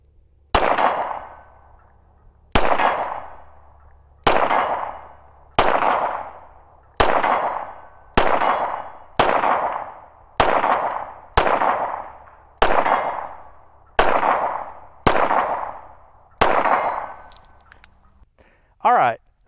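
Dan Wesson DWX pistol fired at an outdoor range at about 55 yards, twelve loud, sharp shots spaced roughly one and a half seconds apart, each followed by a decaying echo.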